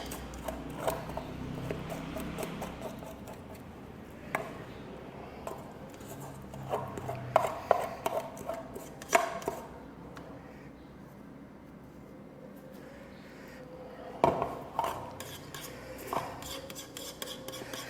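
Cooked oatmeal stuck to the bottom of a pan is scraped out with a utensil, giving a low, steady rasping scrape broken by sharper clinks and taps of metal against the pan at intervals.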